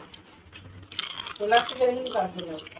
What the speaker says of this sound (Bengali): এই দেখো আওয়াজ হলো, নরম হয়নি, এখনো কুরকুরে আছে।